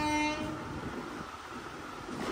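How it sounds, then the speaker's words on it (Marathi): A train rolls past during a home momo-cooking session, its horn sounding in a long tonal blast at the start and then fading under a steady rumble of the passing cars. "ट्रेन पण इतकं डिस्टर्ब करतात ना"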